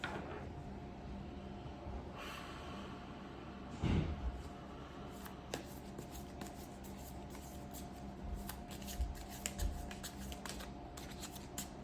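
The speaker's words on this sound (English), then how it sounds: "So we're going to pull some tarot cards, and we're going to see what comes out from there." Tarot cards being shuffled by hand, soft repeated riffling and sliding flicks spread through the whole stretch, close and fairly quiet, with a single louder rustle early on and no speech.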